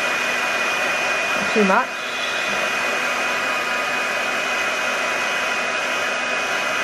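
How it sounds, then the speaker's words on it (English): A hair dryer blows steadily onto a wet painting made with brush markers, a loud continuous whoosh throughout, with a short spoken remark and a brief whistling squeak near the start. "I'm just going to dry him off a little wee bit."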